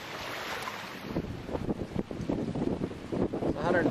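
Wind at about 14 miles per hour gusts around a Lynx vertical-axis wind turbine with a Lenz2 rotor, a steady broadband rush buffeting the microphone, with a voice talking faintly through it.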